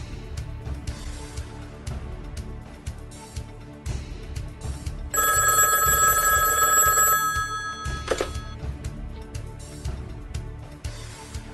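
A telephone rings loudly in one sustained trilling burst, then falls silent, against a low steady background hum with no speech.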